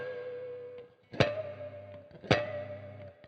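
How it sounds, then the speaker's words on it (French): Clean-toned electric guitar, two strummed chords each ringing out with sustained harmonics and light effects, played alone without talk. "si par exemple vous avez une guitare électrique et vous êtes en clean"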